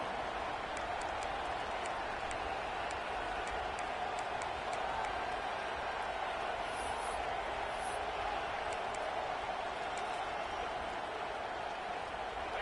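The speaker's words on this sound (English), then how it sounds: "This crowd ready to make its presence known." Steady stadium crowd roar in a college football video game, Michigan versus UNC, a dense constant wash of applause and cheering held at an even level throughout, with faint clicks on top.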